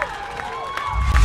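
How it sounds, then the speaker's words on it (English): Crowd cheers at a high school football game, a short burst of loud shouting from the stands with clapping, close and lively. "this crowd is fired up"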